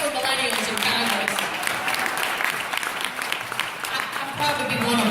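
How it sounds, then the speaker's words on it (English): Applause from a town hall crowd in Plymouth, Michigan, a dense, steady clatter of many hands that fills the room for several seconds, with a few voices mixed in. "we can clap for millennials in Congress"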